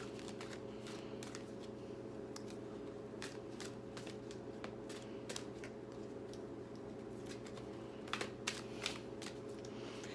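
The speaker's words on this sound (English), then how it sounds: "These are very big cards. They're hard to shuffle" Large tarot cards being shuffled in repeated crisp riffles and flicks, close by, over a steady low hum; no talking.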